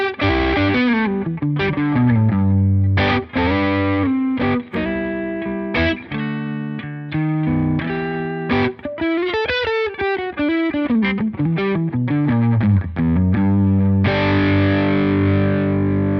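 A higher-output electric guitar plays a busy run of riffs and chords through a Helix overdrive with the low end restored, loud and distorted with no talking.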